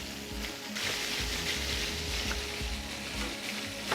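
Chicken livers fry in fresh lard with a steady, close, crackling sizzle and a few light stirring scrapes, with no talking.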